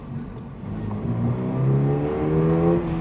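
A Toyota GR86's naturally aspirated four-cylinder engine revs up, its rising harmonic tone climbing smoothly and loudly over about three seconds, heard from inside the car.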